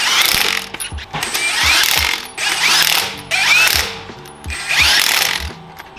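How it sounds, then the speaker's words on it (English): Lug nuts being tightened onto a Toyota RAV4 wheel with a power tool or ratchet, several loud mechanical bursts of whirring and ratcheting separated by short pauses, close by. "Lug nuts go in."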